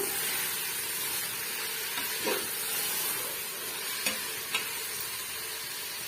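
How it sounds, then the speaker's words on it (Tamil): Mint and coriander leaves are stirred into vegetable biryani masala frying in a pan, giving a continuous hissing sizzle with a few soft spatula scrapes, steady and close with no talk. "சேர்த்துட்டு மிக்ஸ் பண்ணி கொடுத்துக்கோங்க"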